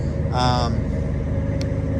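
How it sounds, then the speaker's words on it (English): A distant muscle car engine rumbles steadily at a low pitch outdoors near a parked semi truck, with a voice speaking briefly over it. "I hear some muscle car somewhere."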